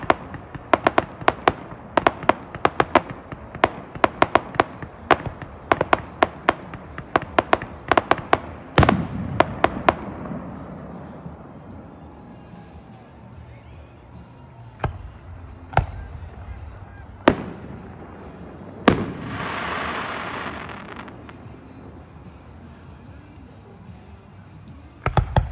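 Fireworks for US Independence Day in America: a rapid run of loud, close cracks and bangs, then a fading rumble and scattered single booms with a crackling burst later.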